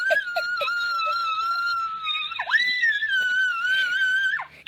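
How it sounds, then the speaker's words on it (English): A high, sustained squealing scream with wavering pitch, rising and dipping in long cries broken by short yelps, loud and close. "It sounds like a puppy screaming."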